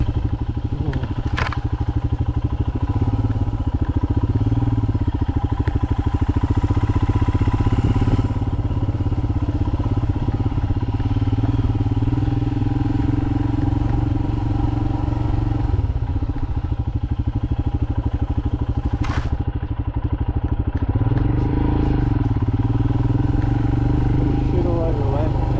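An adventure motorcycle rides slowly along a soft dirt trail, its engine a steady close drone with occasional clatter and thumps from the terrain, and a rider talking over it throughout.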